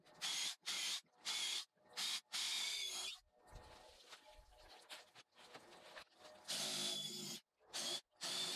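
Power drill driving screws into a wall for a mini-split wall mount bracket, in several short close bursts separated by pauses.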